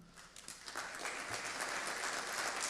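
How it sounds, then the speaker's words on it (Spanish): Audience applause for speaker Oscar Nis after a cybersecurity and defense talk, a broad wash of clapping that builds and holds steady across the room, with no voices over it. "le damos un fuerte aplauso a Oscar Nis"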